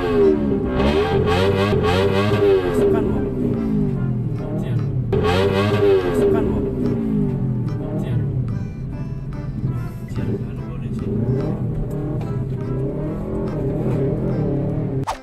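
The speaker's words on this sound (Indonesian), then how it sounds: "Suara berisik dari knalpot tersebut terdengar keras." A motorcycle with a loud aftermarket exhaust revs repeatedly at a red light, rising and falling engine roars close by, overlaid with someone talking throughout.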